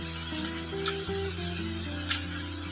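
Prawn curry with sour yogurt being stirred in a pan over a steady sizzle, with a couple of brief scrapes of the spatula, close up and without voices.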